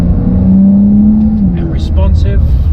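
A 2019 Porsche 992 engine in Sports Plus mode revs with a loud, steady drone that climbs in pitch and then eases off, close to the listener, with a voice talking over it.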